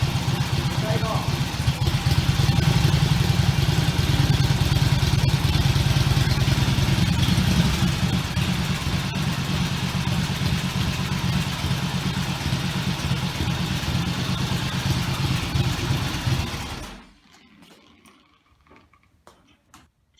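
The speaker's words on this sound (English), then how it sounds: "Give it some throttle. And you're going to gradually rock the clutch." An Indian motorcycle engine runs at a close, steady chugging idle under a man's spoken instructions, then cuts off abruptly near the end, leaving quiet room tone with faint ticks.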